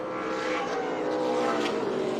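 Race cars circling the oval at Colorado National Speedway in an ARCA Menards Series West race, a steady blended engine roar that holds loud and continuous with no break.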